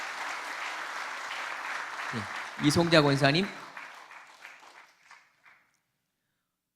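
A church congregation claps warmly for a retiring deaconess at a thanksgiving service, steady applause that carries on beneath a voice speaking a name before tapering off into silence.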